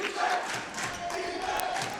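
Spectators at a Mountain View vs. Los Altos high school boys basketball game make a continuous roar of cheers and shouts, filling a gym at moderate loudness.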